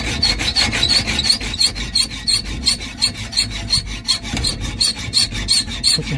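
A file rasps a lump of weld off metal in loud, close, rhythmic back-and-forth strokes, steady and continuous, with no talking.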